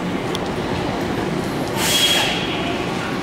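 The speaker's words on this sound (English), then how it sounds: "Welcome aboard the plane train." Automated people mover train at Atlanta's Hartsfield-Jackson airport riding between concourses, a steady rumbling hum of the car in motion with a brighter swell of wheel and track noise midway, no talk.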